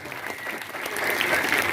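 Audience applause at a school felicitation ceremony in Palanpur: steady, dense clapping from a crowd that holds and grows slightly louder over its short span, with no voices above it.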